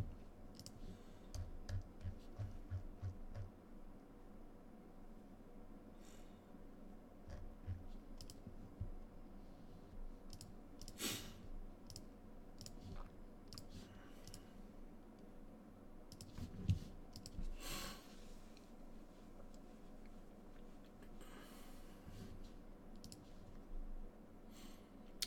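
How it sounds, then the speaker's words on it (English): Mouse clicks from a player competing in a Modern-format Dredge match, scattered and sparse over a steady low background hum, with a few sharper isolated clicks standing out. "I'm just gonna click submit."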